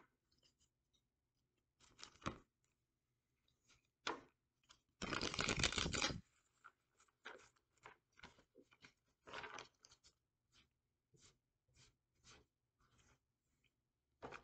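Cards are pulled and shuffled for a reading, heard as quiet close riffles, slides and taps in scattered short bursts, with one longer shuffle in the middle and near-silence between.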